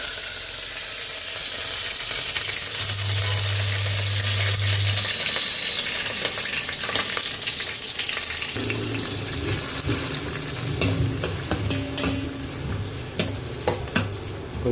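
Mustard seeds and curry leaves hit hot oil, a harsh crackling sizzle with sharp pops, a brief steady hum partway through, then a louder stir-frying clatter near the pan.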